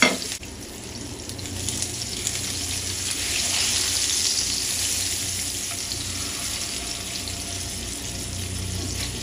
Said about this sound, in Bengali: এখন লবণ আর হলুদ দিয়ে কচুর ছড়াটা আমি ভেজে নিব।